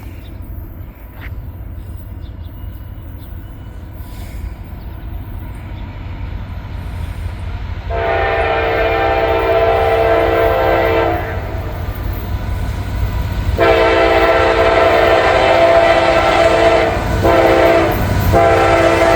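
Intermodal freight train rolling past a level crossing with its horn sounding in long sustained blasts, first around the middle and again near the end, over steady loud rumble of the train passing close by.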